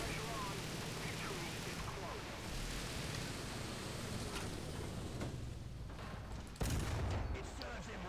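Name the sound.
tank cannon fire in War Thunder video game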